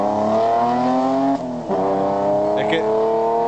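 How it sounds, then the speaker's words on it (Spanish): A BMW rally car at a 2008 Ferrol rally roars past with a loud, sustained engine note that rises steadily in pitch, dips briefly, then picks up again, with people talking nearby over it. "El sonido ya es que se nota que es un BMW"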